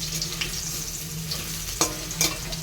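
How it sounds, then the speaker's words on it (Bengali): Potatoes with cabbage fry in hot oil in a pan, making a loud, continuous close-up sizzle broken by a few stirring scrapes, with no speech. "এখন এই বাঁধাকপির আলুগুলো একটু ভেজে নিচ্ছি।"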